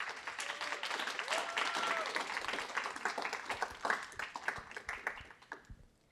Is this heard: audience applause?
yes